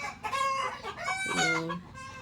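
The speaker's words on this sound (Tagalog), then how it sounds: "ang ingay talaga ng mga alagang manok" Chickens clucking and squawking close by, a few rising, drawn-out calls in quick succession with a faint background hum.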